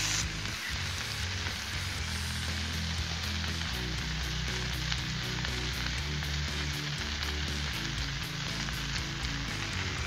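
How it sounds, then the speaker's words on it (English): Butter sizzles loudly and steadily on a hot Blackstone griddle, a dense continuous crackle heard close up with no talking. "Now, for the eggs, I'm going to put down some more butter."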